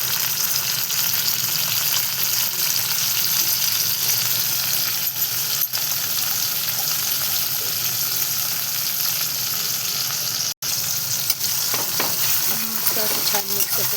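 Chopped tomatoes and garlic sizzle loudly in a pan for fenugreek-leaf bhaji, a dense continuous frying hiss with spoon stirring and occasional metallic clinks throughout.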